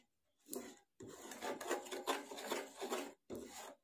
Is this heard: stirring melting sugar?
yes